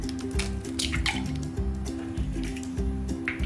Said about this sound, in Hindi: अब अंडे को फेंट के रख लेंगे जब तक रोटी सिक रही है, तो एक अंडे को फेंटना है।